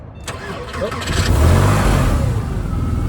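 A Porsche 911 (996 generation) engine cranks and catches, then settles into a loud, rumbling rev close by, with a voice briefly audible over the start.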